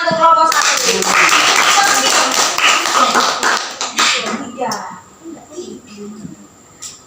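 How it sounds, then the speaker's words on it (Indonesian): A classroom of students applauds a student group, a burst of dense clapping that swells, holds for several seconds, then thins into scattered claps and chatter as voices take over. "Beri tepuk tangan untuk kelompok 1."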